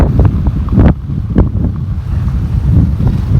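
Wind rushes past while riding a vehicle outdoors, a steady low roar with buffeting gusts that fill the whole clip, loud and close to the microphone, with no voices.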